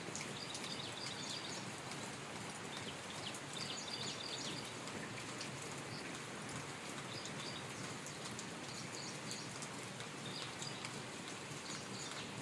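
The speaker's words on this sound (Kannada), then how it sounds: "ಮಳೆ ಬೇರೆ ಹಿಂಗೆ ಹುಯ್ತೈತೆ" Dense, steady rain pours down evenly for the whole stretch, a constant hiss with faint bird chirps far off.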